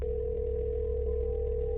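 Steady continuous telephone tone heard while calling family, a constant single hum running unbroken and alone at moderate level.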